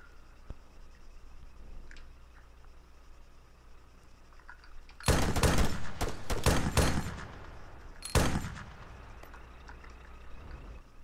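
Gunshots in the video game Arma 3 as a vehicle is shot at, a sudden loud cluster of rapid cracks followed by a short pause and a second burst, over a low steady engine rumble.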